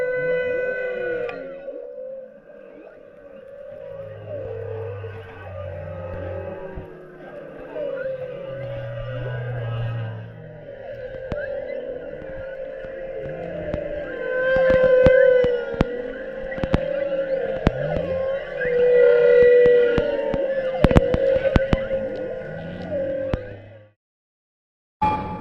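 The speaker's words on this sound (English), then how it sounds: "I just want you to listen to the sound of whales calling to each other" Whales call to each other underwater in long, eerie tonal moans and sweeping cries that rise and fall, overlapping at moderate loudness for about twenty seconds before cutting out abruptly.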